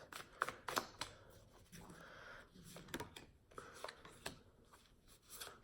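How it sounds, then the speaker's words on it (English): Tarot cards riffle and slap together in quick bursts, a close, papery shuffling with no talking over it. "make sure I shuffle these"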